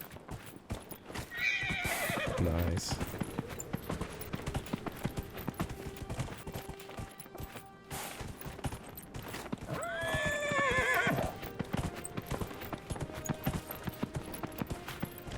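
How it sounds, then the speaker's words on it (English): Horse in Dragon Age: Inquisition, rapid clip-clopping hooves running throughout with two loud whinnies, one early and one later; a brief spoken word is heard. "we can get through with our horse"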